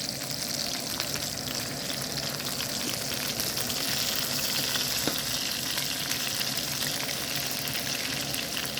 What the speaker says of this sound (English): Just butter is melting.